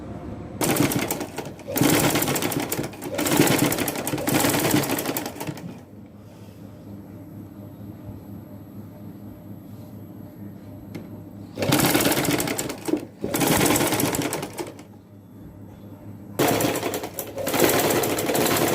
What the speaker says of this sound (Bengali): আমি এই যে এখানে সেলাই করে